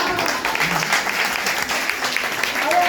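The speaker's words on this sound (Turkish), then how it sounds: "Şimdi ben sizden aramızda olan erkekler için bir alkış." A crowd at a documentary screening applauds steadily throughout, dense clapping from many hands filling the room at a constant, fairly loud level.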